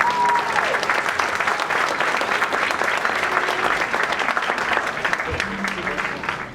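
An evening school curriculum-night audience gives a full round of applause for two musicians, a thick continuous clatter of many hands at close range, with brief spoken words at the start under the clapping.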